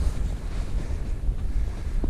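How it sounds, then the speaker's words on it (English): Strong gusting wind buffets the microphone high on a mountain ridge during a high-wind hike of the Mosedale Horseshoe, a loud continuous rumbling roar that surges and eases throughout with no voices. "gust of wind's just come in"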